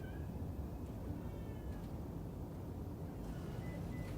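A cat meows faintly a couple of times, its calls mostly buried under a steady, loud low rumble of background noise.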